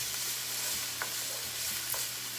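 Ground beef browning in a frying pan for taco salad, a faint steady sizzle with occasional soft stirring scrapes, no voices.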